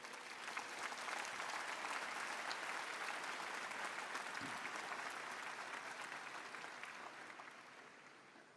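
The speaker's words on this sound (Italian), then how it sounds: "salutiamo loro con un applauso." Broad, continuous applause fills Paul VI hall during a papal audience as the crowd greets the sick, a distant wash of many hands clapping at once, steady for several seconds before gradually thinning.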